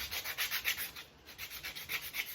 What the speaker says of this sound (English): I'm going to take our pieces with my 80 grit sandpaper. I'm going to actually take off some of these sharp edges all around it